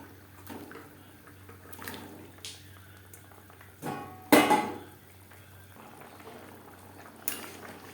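Aar fish curry gravy simmering in a pot, a soft bubbling under quiet kitchen clatter, with one louder clank of utensils against the pot midway and occasional lighter taps.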